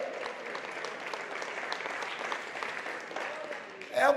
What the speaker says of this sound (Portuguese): já merece uma salva de palmas de gratidão